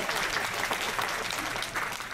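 Audience applause during a talk aboard the Diamond Princess cruise ship on a day at sea, a steady patter of many hands clapping at moderate volume.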